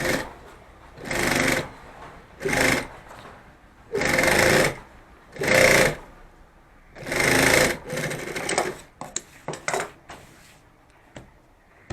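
A sewing machine stitches fabric for a handmade bag in repeated loud bursts of whirring, with short pauses and faint handling clicks between runs.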